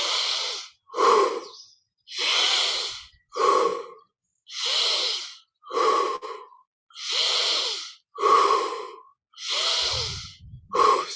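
Deep conscious breathing in a guided meditation, ten slow, loud close breaths alternating inhale and exhale in an even rhythm, each separated by brief silence.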